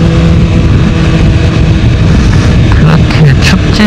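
A BMW S1000RR motorcycle rides on a winter road, its engine droning loudly and steadily close to the microphone, with heavy wind rush and a few brief rising revs toward the end.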